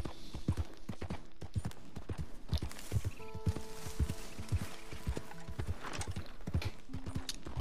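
Steady clip-clop of horse hooves walking at an even pace in Red Dead Redemption 2, close and clear, with a brief whinny and some game music tones in the background.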